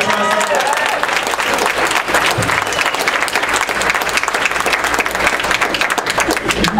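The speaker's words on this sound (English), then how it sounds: "give her a big round of applause" A comedy club crowd gives a volunteer a big round of applause, a loud, dense wash of clapping lasting several seconds with voices mixed underneath.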